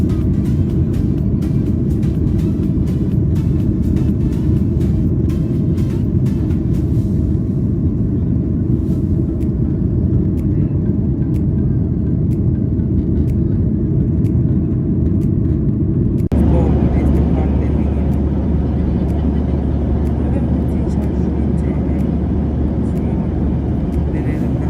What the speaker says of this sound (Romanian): A venit momentul în care să urcăm în avion.